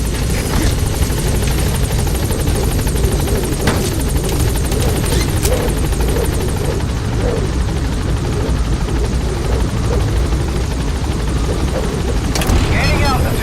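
Helicopter from the video game Metal Gear Solid V arriving at a landing zone, a loud, steady rotor roar and whine that fills the scene throughout, with a brief burst near the end.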